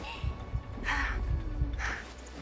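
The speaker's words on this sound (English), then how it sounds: "you could actually hear her heartbeat when you do that" Soft, low heartbeat thumps of a character in Girls' Frontline 2 pulse at a slow, steady rhythm beneath two breathy swells of sound.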